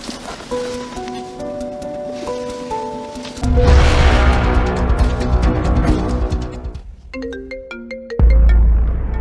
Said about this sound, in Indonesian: Ini kan handphone Shanas.